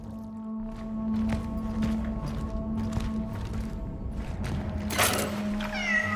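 A cat meows in the video game Cronos: The New Dawn, a short mew close to the end, heard over a steady droning game ambience with faint scattered footstep-like ticks.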